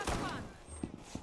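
A gunshot rings out in the video game Operation: Para Bellum, a quick burst of sharp reports at the start followed by fainter pops, with a person talking faintly over it.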